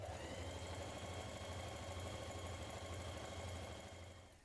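A sewing machine runs continuously at a long stitch length, sewing two lines of gathering stitches along the top pieces of a tunic, a steady close mechanical hum that slows and fades at the end.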